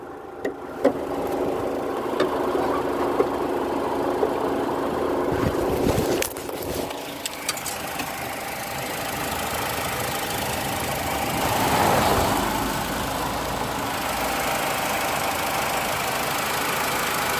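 A car engine with a newly installed exhaust tip idles steadily and close by for a long stretch, with a low even rumble and a few brief clicks and knocks.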